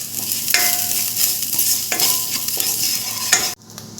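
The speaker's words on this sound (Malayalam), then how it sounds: "ഈ മഞ്ഞൾപ്പൊടി, ഉപ്പ്, മുളക് പൊടി ഇതെല്ലാം ഇട്ട് മിക്സ് ആക്കണം" Turmeric, salt and chili powder are stirred into onions and curry leaves in a pan, a loud close sizzle with spoon scrapes through it before the hiss drops off near the end.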